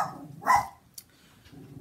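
A dog gives one sharp, close bark, followed by a small yelp a moment later, heard indoors in a quiet room.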